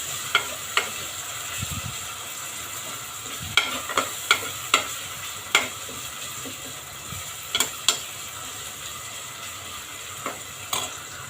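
Tomatoes sauté in a pan for misal pav, giving a continuous soft sizzle. Spoon-against-pan clicks and scrapes of stirring recur throughout at uneven intervals, with no voice.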